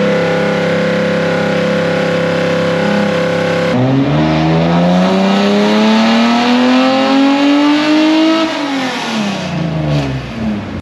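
A 1972 Nissan KGC10 engine revs hard and close: a steady idle drone, then a sharp throttle blip climbing in pitch through a long rising pull before dropping back down.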